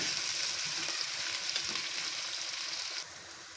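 Onion, garlic, ginger and green chillies browning in a hot pan, giving a continuous bright oil sizzle with faint stirring, close and steady before easing slightly at the end.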